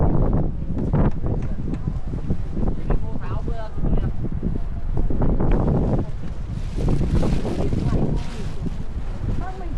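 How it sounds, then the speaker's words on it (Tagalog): Strong wind buffets the microphone on a cloudy mountainside glass bridge near Sapa, Vietnam, roaring and gusting loudly throughout as people talk nearby. "So windy."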